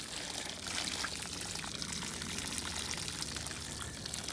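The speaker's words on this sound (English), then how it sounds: "All right, let's add a little bit more water to this." Water is poured onto the soil of a potted grafted avocado tree grown from seed, a steady soft splashing pour that lasts throughout, near and even in level.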